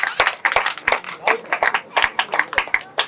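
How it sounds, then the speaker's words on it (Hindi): An audience at a Christian school's grand opening claps in quick, uneven bursts, loud and close, with scattered individual hand claps. "तालियां जोरदार"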